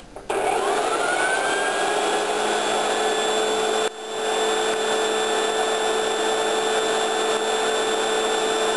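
A pink Hoover shampoo polisher runs with a steady, loud motor whine and a stable high tone, spinning up at the start and briefly dipping once before resuming its constant drone, with no talk.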